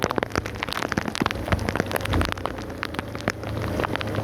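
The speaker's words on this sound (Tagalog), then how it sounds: "Tumatama sa mata natin yung ulan." Heavy rain pours steadily during flooding in Barangay Llano, North Caloocan, a dense close patter of drops hitting surfaces with no voices over it.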